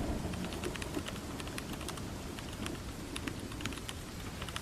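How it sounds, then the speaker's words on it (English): Rapid, continuous clicking of keys on a computer keyboard, a dense, quick patter of keystrokes close by. "Why are you typing so fast?"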